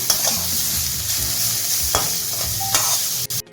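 Grated radish for a Bengali mulor chechki frying in a pan with turmeric powder, a steady close sizzle broken by scraping stirs of a spoon against the pan, ending in a few sharp knocks.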